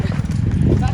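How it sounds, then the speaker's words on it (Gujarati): A mare's hooves clip-clop in a steady rhythm close by while people talk over them, all at moderate loudness. "દીક્ષારભાઈ માથે બેસે છે ઘોડી બેસવા નથી દેતી"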